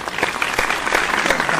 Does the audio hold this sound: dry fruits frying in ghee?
no